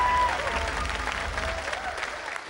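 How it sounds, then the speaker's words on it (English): A studio audience applauds a Robot Wars contestant's run. The clapping is dense and continuous, loudest at the start and slowly easing off over the few seconds. "Give him a round of applause, ladies and gentlemen."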